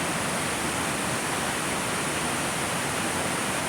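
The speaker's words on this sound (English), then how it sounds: "gushing out of the mountain, out of the top of the mountain, to bring you fresh water from the earth" Mountain waterfall gushing from high on a mountainside: a dense, steady roar of falling water, loud and close, broadband and unbroken, with no voices.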